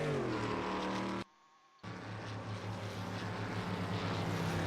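GT8 stock cars, among them a Ford Fusion, roar around a short-track corner with tires smoking, producing a loud, continuous engine howl that cuts out briefly midway before returning.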